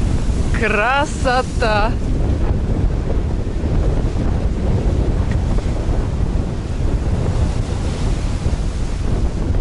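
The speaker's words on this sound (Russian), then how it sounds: "Посмотрите, какой ветер. Пальмы просто сдувает. А море как бушуется." Strong wind roars over a rough, churning sea at the port of Side, Turkey, with heavy surf and gusts buffeting the microphone throughout; a person briefly exclaims near the start.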